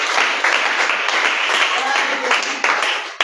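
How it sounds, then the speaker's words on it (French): A church congregation applauds the Lord in a loud, dense burst of clapping that runs steadily throughout, with a few voices mixed in beneath. "On acclame le Seigneur"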